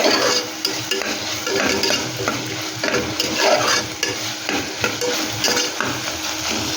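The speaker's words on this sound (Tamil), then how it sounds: "வெஜிடபிள்ஸ் ஆட் பண்ணியாச்சு ஃப்ரெண்ட்ஸ். அதையும் இது கூட சேர்த்து வதக்கிக்கலாம்." Carrots, beans and other vegetables sauté in a pan for pressure cooker pasta, a loud continuous sizzle with scraping stirs and occasional clinks of a utensil against the pan, close up and without talk.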